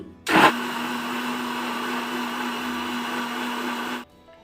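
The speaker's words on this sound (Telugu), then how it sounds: "మళ్ళీ ఒకసారి హై స్పీడ్లో బ్లెండ్ చేసుకుందామండి" A blender runs at high speed on banana milkshake, starting with a sharp burst and then holding a steady, loud whir for about four seconds before it stops abruptly, with no talking.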